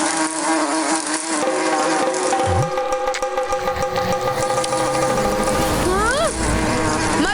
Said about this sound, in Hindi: मधुमक्खी, भागो